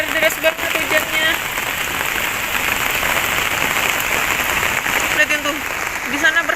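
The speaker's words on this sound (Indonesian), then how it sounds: "tuh jadi emang benar-benar deras banget hujannya" Heavy rain pours down in a forest near a tree house, a dense, steady drumming of drops on surfaces that fills the whole scene without letup.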